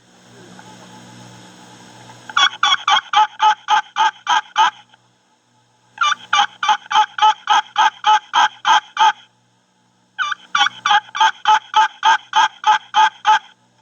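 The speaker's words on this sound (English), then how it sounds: "To do the mating yelp, you want to increase the rhythm." A turkey mating yelp played on a friction call, made as three quick runs of sharp, evenly spaced yelps with short silent pauses between them, loud, close and clear.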